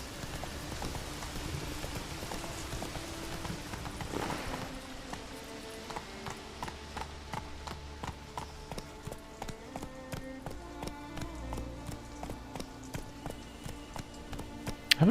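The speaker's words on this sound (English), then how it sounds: "I haven't really listened to the horses walking before. Sounds very good." Horse hooves clip-clop at a walking pace in The Witcher 3 video game, a steady, evenly spaced rhythm of sharp taps over a faint ambient game bed, after a brief swell of noise.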